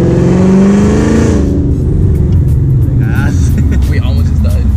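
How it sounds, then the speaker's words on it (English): A Ford Mustang GT drives with a loud, close engine drone inside the car that rises in a rev, and people talk over it. "Let's go ahead and drive a Mustang today."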